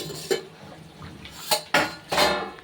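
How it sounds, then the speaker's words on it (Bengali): A metal plate serving as a lid comes off a pot of simmering chicken curry, producing a handful of separate clattering metallic clanks and scrapes, close and fairly loud, with quiet gaps between them and no voices. "এবার ঢাকনাটা খুলছি।"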